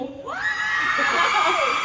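A loud, shrill burst of screaming rises from an audience at a show in Thailand for a series launch, sustained and close for under two seconds.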